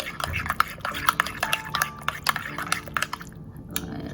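Chicken biryani marinade with thick yogurt and no water, stirred by hand in a bowl: wet squelching strokes and repeated light spoon clinks in a loose rhythm, close up.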